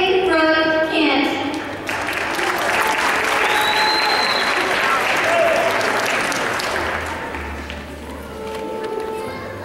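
Enthusiastic crowd applause for a contestant at a Little Miss pageant, dense and loud clapping that swells and holds for several seconds, with cheering voices and an announcer briefly speaking at the start.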